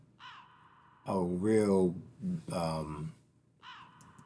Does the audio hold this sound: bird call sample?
yes